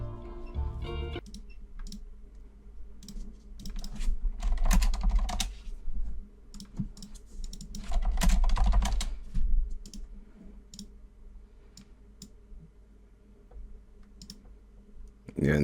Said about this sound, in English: And he always starts typing.